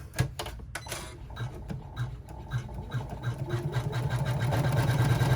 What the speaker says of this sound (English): Now we're going to run a seam for our lining.